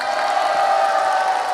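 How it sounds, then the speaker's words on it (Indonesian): A training audience claps enthusiastically on request, a dense, steady burst of many hands for about a second and a half, close and fairly loud with no talking. "Tepuk tangan tuh yang semangat gitu loh."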